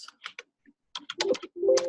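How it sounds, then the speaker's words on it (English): A computer keyboard clicks in short bursts of close, sharp taps, with a brief tonal beep or squeak near the end. "Whoops, sorry, hit my keyboard."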